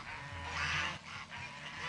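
Young geese of the year, guided by a dog trainer and just put in the water, honking and calling in a loose overlapping flock, moderately close with a steady outdoor background.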